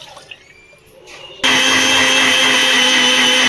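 Electric kitchen blender grinding a mango milkshake of cold milk and vanilla ice cream, starting abruptly after quiet and running as a loud, steady whirring roar for about two seconds before cutting off.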